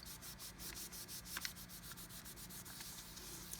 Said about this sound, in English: And burnish and burnish and burnish.